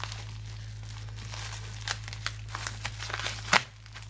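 A Pokémon card package is torn open close by, with crinkling plastic rustles and a sharp rip near the end, set against a steady low hum.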